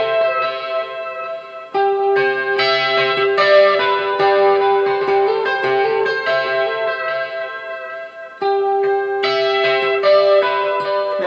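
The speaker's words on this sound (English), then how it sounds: "I'm going to use this tremolo bar to just kind of add some depth to that echo" Electric guitar played through effects with echo and reverb, its pitch bent by a tremolo bar, sustaining loud, dense chords that swell and blur together with two brief breaks in the washed-out tone.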